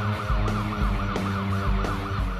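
Police car sirens in a car chase video game, several wailing sirens cycling together up close and loud, with engine noise underneath and no talking.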